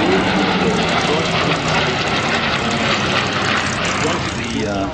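A loud, steady military aircraft engine drone roars close by at an air show, broadband and continuous, with a voice faintly present beneath it.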